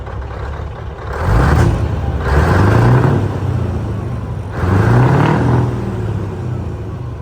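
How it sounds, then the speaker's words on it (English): Scania truck exhaust rumbling close and loud, with three deep revving surges rising and falling over a steady idle. "first reaction of our exhaust sounds"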